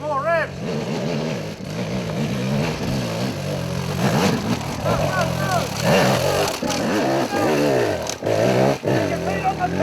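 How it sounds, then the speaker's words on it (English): A motorcycle engine revs and strains in rising, falling bursts while climbing a steep hill trail, with voices talking over the engine noise. "more revs, more revs"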